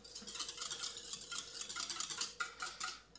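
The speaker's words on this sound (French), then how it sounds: "On mélange." Spoon stirring a drink mixture with lime juice in a glass, a steady run of light scraping and clinking strokes close by, with no talk.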